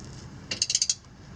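A ratchet wrench tightens a bolt during a limited-slip differential install on a Mitsubishi Galant VR4: a quick run of about five sharp, close metallic clicks, alone with no talk.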